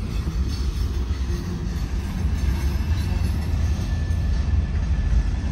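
Freight train rolling past in Dallas, a steady, loud low rumble of wagons and wheels filling the whole stretch without letup.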